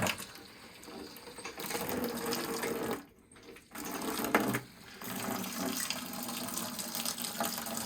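Water rushing out as a steam boiler is drained, a steady broadband hiss and gush that briefly drops off twice before resuming, close and fairly loud.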